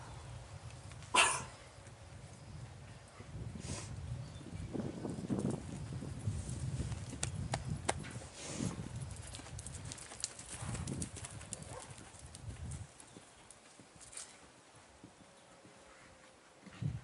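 Horse hooves clip-clop at a jumping clinic riding lesson in an arena, a steady rhythmic patter of footfalls at moderate distance, with a dog barking at times in the background.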